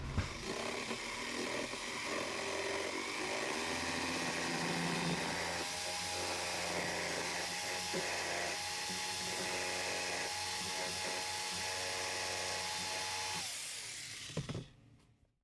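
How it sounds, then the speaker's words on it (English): A jigsaw cuts out a wooden headboard for a twin bed, a loud continuous buzzing whine that holds steady for about thirteen seconds before stopping abruptly. "I'm going to cut this out with this jigsaw"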